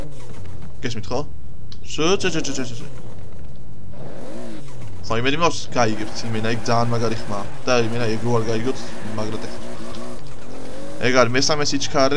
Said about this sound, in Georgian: ტურბინის ხმა არის ძალიან ცხოველი